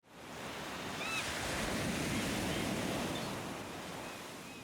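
Ocean surf washing onto a sunny beach, a broad hissing swell that builds, holds steady and eases off, with faint gull-like cries in the background and no voices.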